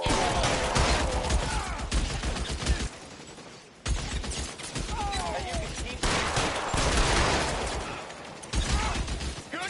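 Sustained video-game gunfire rattles in dense bursts, loud and close, with brief lulls between volleys and shouted voices mixed in over the shooting.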